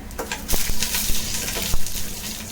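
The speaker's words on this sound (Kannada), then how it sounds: "ಇದು ಸಾಸಿವೆ ಕಾಳು ಪಟ್ಪಟ ಅಂತ ಕುದಿದ್ದಾದ್ಮೇಲೆ" Mustard seeds splutter and pop in hot oil in a pan while frying, a steady bright sizzle broken by sharp, irregular crackles, close and fairly loud with no one talking.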